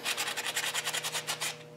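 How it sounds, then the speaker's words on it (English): Quick, rhythmic scrubbing of a sanding block, about a dozen short back-and-forth strokes close up, alone over a faint background hum. "sanding and buffing blocks, to polish that out a little bit more."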